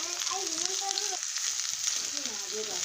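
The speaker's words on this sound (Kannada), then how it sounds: "ಎಣ್ಣೆ ಒಳಗೆ ಎಲ್ಲ ಚೆಂದಾಗಿ ಫ್ರೈ ಮಾಡ್ಕೊತೀನಿ" Pumpkin pieces frying in oil give a steady, close hiss and crackle throughout, with a voice speaking over parts of it.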